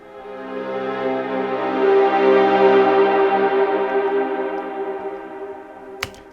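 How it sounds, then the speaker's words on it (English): Muted strings wash through a large modulating reverb, a long, blooming sustained chord that swells and slowly thins out, with a faint click just before the close. "Big modulating reverb"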